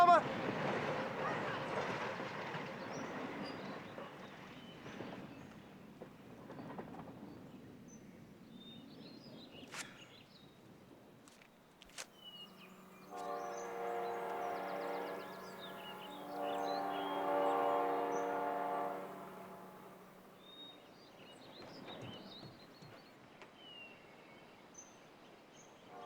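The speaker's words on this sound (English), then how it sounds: "The train's moving." A train pulls out of a station in a musical comedy scene, with low rumbling movement and a sustained horn or whistle blast midway, mixed with voices and scattered background noise.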